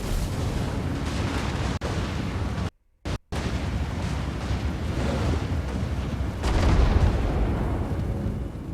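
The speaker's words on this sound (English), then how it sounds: "Flame cannon! On! Burn this Chaos Knight down." A Dwarf flame cannon fires in the Total War: Warhammer battle game, giving heavy, sustained roaring blasts with dense rumbling low end. Two short dropouts break the sound, and it swells louder toward the end. No speech is heard.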